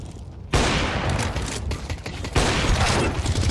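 Sustained, loud gunfire from a gun in CS2, with dense rapid shots starting abruptly and continuing with a short lull before a second heavy stretch.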